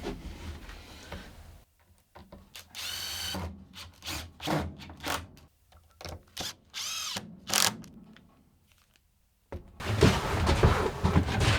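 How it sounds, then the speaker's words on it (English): Near and fairly loud, a power drill drives screws through wheel strips into a cabinet underside in short stop-start whirring bursts over about ten seconds, ending in a longer steady run, with no talking. "These strips with the wheels now can just get screwed to the underside"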